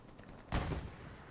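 A single muffled report from a BAR rifle in the World War II video game Hell Let Loose, one short thump rising out of quiet background rumble and fading quickly.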